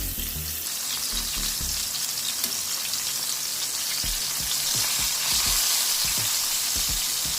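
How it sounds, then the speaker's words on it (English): Chicken dredged in two kinds of flour fries in a pan, with steady, dense sizzling and scattered crackles and pops, close and constant, with no talk. "while my chicken is frying"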